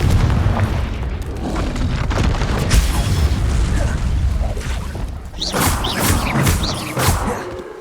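Repeated Confringo blast-spell explosions in the Hogwarts Legacy video game, loud booming bursts with whooshing crackle layered over continuous combat noise, sharp impacts clustering near the end.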